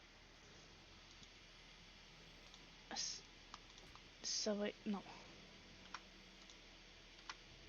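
Computer keyboard keys clicked in short scattered bursts while playing Orcs Must Die 2, quiet and close, with someone speaking French briefly in between.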